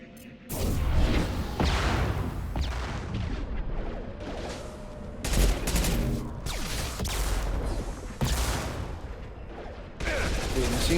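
Machine pistol gunfire in the video game Mass Effect rattles in rapid bursts with booming impacts and whooshes, loud and continuous across the stretch, with someone talking over the action.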